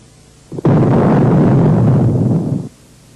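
Refinery explosion from spontaneous ignition of an explosive mixture, a sudden loud blast followed by about two seconds of heavy roaring rumble that cuts off abruptly.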